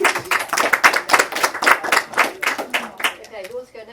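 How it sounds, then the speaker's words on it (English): Audience applause at a small literary society reading night, a dense burst of close clapping that carries on steadily for several seconds and thins toward the end, with a few voices murmuring underneath. "Big round of applause,"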